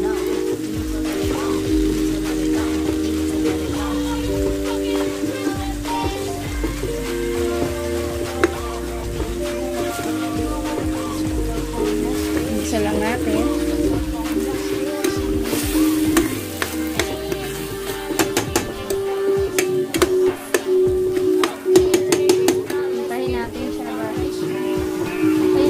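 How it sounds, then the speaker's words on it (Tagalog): Steady sizzling of 250 grams of miso being sautéed in a pan for sinigang na bangus, a continuous crackling hiss with occasional stirring scrapes, heard under background music. "Ito po yung miso. Igigisa natin siya."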